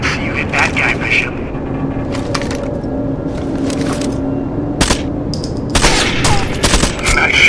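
Gunfire in the video game Rainbow Six Vegas 2, with sharp sniper-style cracks and several loud bursts over constant game noise and squad radio voices talking throughout.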